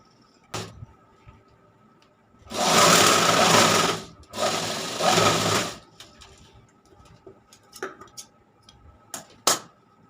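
An electric sewing machine stitches fabric in two loud, steady runs separated by a short pause, with scattered clicks and handling taps of the cloth before and after.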